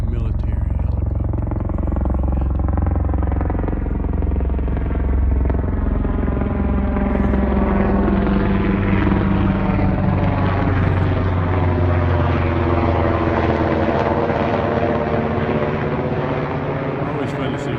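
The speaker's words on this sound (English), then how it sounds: "And you can probably hear we have a military helicopter" A military Black Hawk helicopter flies over an outdoor garden site with swales and plum trees, its loud, steady rotor and engine roar filling the whole stretch and slowly shifting in pitch as it passes.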